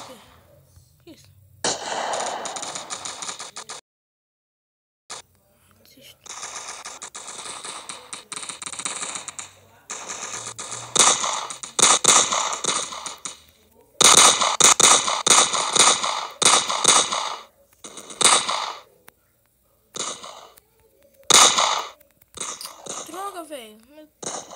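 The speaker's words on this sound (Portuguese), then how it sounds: "Aqui atira" Gunfire in the mobile shooter Standoff, sharp cracking shots in irregular clusters and rapid bursts separated by silent gaps, with a player talking between and over them.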